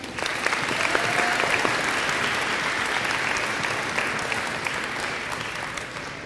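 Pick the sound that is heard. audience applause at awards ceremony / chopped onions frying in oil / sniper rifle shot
audience applause at awards ceremony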